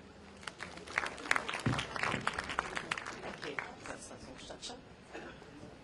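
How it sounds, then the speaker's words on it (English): Applause from a conference audience, a steady wash of many hands clapping with some voices mixed in, lasting several seconds, welcoming a speaker. "Please give a round of applause."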